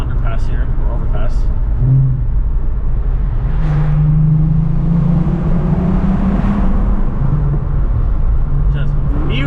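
A Volkswagen Jetta wagon engine hums and rumbles as it cruises through the gears on a road, its note rising and dropping with each shift, loud and close beneath talking.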